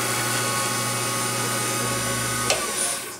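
Olive wood pen blank spinning on a lathe while being sanded with 400 grit sandpaper, giving a steady, fairly loud whir with a low motor hum that drops away near the end, followed by a brief scrape.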